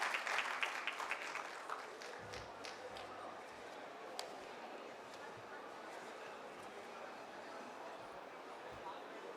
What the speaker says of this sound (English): Can we have a round of applause for her, please?